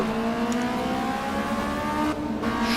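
A modded Honda Civic engine revs hard in the racing game Assetto Corsa, a loud continuous rising drone that briefly dips near the end before climbing again.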